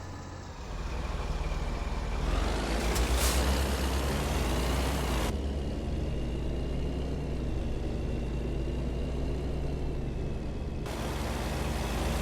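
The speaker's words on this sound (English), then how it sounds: "you really hear the turbo in this as well, actually" A truck engine in American Truck Simulator drones steadily with a turbo whine riding over the low rumble, moderately loud and continuous, with a brief hiss near the start and no talk.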